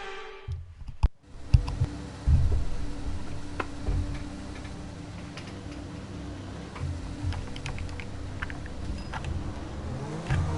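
A race car engine in a racing video game at Monza hums steadily and rises briefly as it goes up through the gears, with a ticking click running under a continuous mechanical drone.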